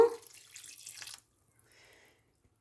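Salted water poured from a vessel over pickling cucumbers in a pot, a short splashing pour lasting about a second, then near silence with faint drips.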